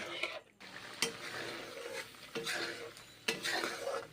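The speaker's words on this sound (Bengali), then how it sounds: "নেড়ে চেড়ে নিচ্ছি মুগ মুসুর ডাল রান্না করছি" A spoon stirring mung and masoor dal with water and green chillies in a pot, several soft scraping and clinking strokes at irregular intervals, quiet and close with faint background hiss.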